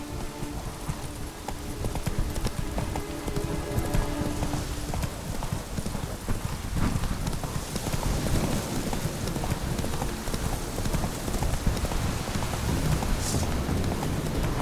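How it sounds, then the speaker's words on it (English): Rapid galloping hoofbeats of a horse in the video game The Witcher 3 pound steadily throughout, loud and close, with a rumbling backdrop and a faint snort or whinny. "Run, Roach."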